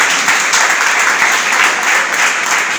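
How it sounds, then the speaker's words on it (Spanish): A church congregation bursts into applause, a steady, dense wash of many hands clapping together with no talk, holding at an even level throughout. "¿Cuánto le dan un aplauso al Señor?"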